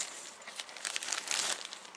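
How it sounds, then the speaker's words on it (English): A plastic bag holding the parts of a Wombat Models C30T HO scale model kit crinkles and rustles close up, with a steady, crackly handling sound that grows louder toward the end. "the kit basically comes in a plastic bag"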